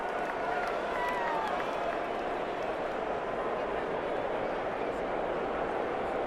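Stadium crowd in a Madden NFL football game cheering and applauding for the defense, a steady, broad wash of clapping and crowd noise that continues throughout with voices talking over it.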